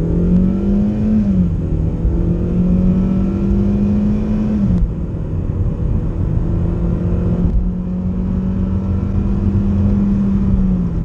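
A Kia Cerato speeds up hard from a standstill to 100 km/h, its engine note climbing steadily, dipping at two gear changes, then climbing again. The drone is loud, sustained and close, with no talking.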